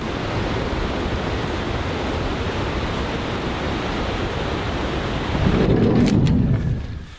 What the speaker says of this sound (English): there comes the spray from the waterfall